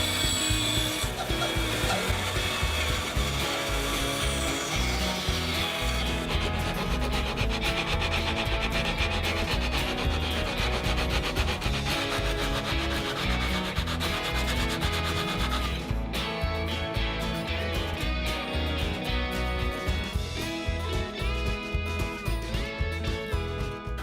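Continuous rhythmic rasp of sanding plywood corners round by hand, close and dry with steady back-and-forth scrubbing strokes and no voices over it.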